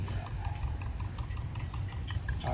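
Queenie, a 27-year-old plow horse working a furrow at a fall plow day, clip-clops along at a steady walking rhythm, hooves thudding over a low rumble of field machinery.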